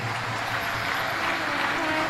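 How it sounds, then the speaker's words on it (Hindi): A large audience at a religious discourse gathering in Bhopal claps loudly, a dense steady applause that holds for the whole stretch with no pauses. "एक बार जोरदार ताली बजाकर उनके लिए साथ होता है।"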